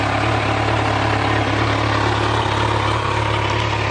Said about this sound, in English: See if we can get a little sound of that exhaust.